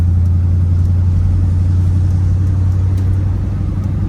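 A 1966 Chevrolet Impala SS with a 396 V8 cruising along, its engine a steady deep rumble heard from inside the car, loud and continuous with no talking.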